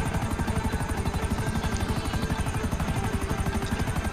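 Helicopter rotor in a video game, a steady rapid chopping thump that stays loud and even throughout with no talking.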